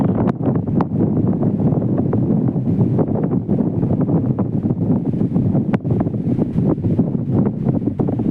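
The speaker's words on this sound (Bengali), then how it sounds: "ভালোই হাওয়া বইছে।" Strong storm wind in an empty area of Saudi Arabia buffets the microphone in constant gusty rushes, loud and rumbling, with occasional sharp flutters and no talking.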